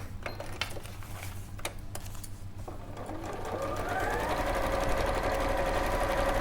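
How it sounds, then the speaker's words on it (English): A sewing machine runs a line of top stitching on a pocket, starting after some light handling clatter and then humming steadily and close, with quiet voices in the background. "we're then going to go back and sew that one line that needed top stitching"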